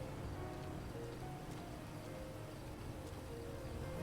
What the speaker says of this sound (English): I think it's starting to rain out here